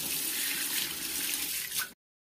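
Running water splashes continuously into a bowl as food is rinsed, a steady close wash that cuts off sharply at the end.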